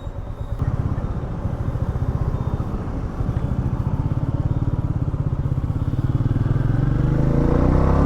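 Royal Enfield Meteor 350 cruiser motorcycle under way, its single-cylinder thump rising in pitch as the rider accelerates, with a brief dip around a gear shift and wind noise building, close and loud with no voices.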